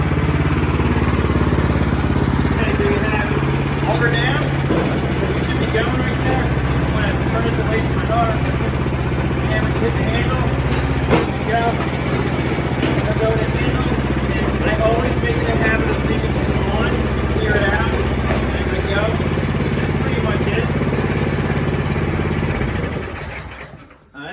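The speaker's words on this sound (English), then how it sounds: "Put this in first gear, auger down, and I'm gonna go." A Troy-Bilt 2860 snow thrower runs steadily in first gear with its auger lowered, a loud, close, continuous engine drone with a churning mechanical rattle that holds level before cutting off abruptly at the end.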